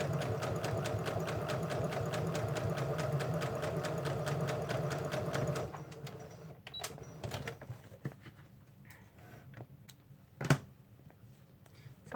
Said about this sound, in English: And I'll do that longer stitch length again.